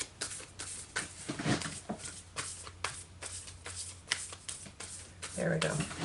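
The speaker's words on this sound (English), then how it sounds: "I'm going to shuffle this one more time." Close-up riffling of oracle cards being shuffled again and again in quick bursts, with quiet talking in the background.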